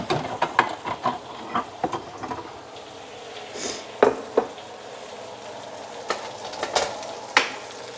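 Meat sizzles in a hot wok off the burner, a steady close frying hiss with scattered pops and crackles, plus a few clicks and taps of utensils.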